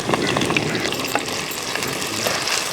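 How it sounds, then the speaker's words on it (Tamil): Steady, dense sizzling and crackling of mustard seeds, dried red chillies and curry leaves tempering in hot oil outdoors, close up and continuous with sharp little pops throughout. "கடுகு நல்லா வெடிக்குதுங்க"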